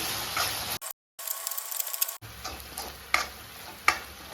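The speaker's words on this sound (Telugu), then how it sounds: "ఇందులో 2 స్పూన్లు అల్లము తెల్లపాయ పేస్ట్, ఇది కూడా కొద్దిసేపు ఫ్రై కావాలి." Ginger garlic paste frying in a pan for a chicken gravy, a continuous close sizzle with spoon stirring and scraping, interrupted by a short silent gap.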